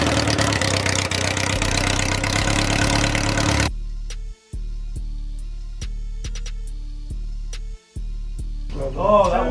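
A 1996 Honda Accord CD7 with a turbocharged G22 engine on its first start: a loud, dense roar for about four seconds cuts abruptly to a quieter, steady idle with sharp ticks and brief dropouts, then rises again near the end.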